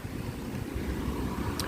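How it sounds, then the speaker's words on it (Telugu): Cool wind blows steadily across a tree-lined university campus in Visakhapatnam, a continuous rushing, buffeting roar close to the microphone with no talk. "ఇక్కడ చాలా చల్లగా గాలి వేస్తుంది"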